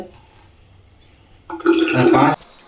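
After a quiet start, a burst of splashing liquid pours for about a second, then stops abruptly.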